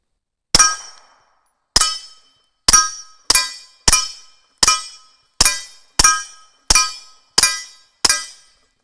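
Springfield Armory XDm threaded-barrel pistol fired with a Yankee Hill Cobra suppressor, ten sharp, close reports with fast decays, one isolated shot then a quick irregular string, no talk.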